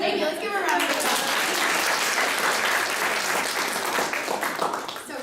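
An audience claps for a participant at a weight-loss class session, a dense, steady burst of applause that holds for several seconds before starting to thin out at the end.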